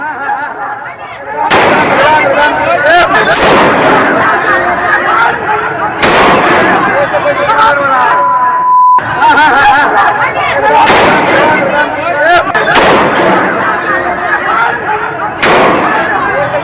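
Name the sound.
police firing shots into the air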